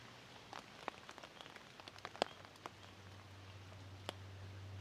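Mild, scattered rain on a tarp over a hammock camp in the woods, sparse irregular taps and drips over a faint low hum, quiet and close.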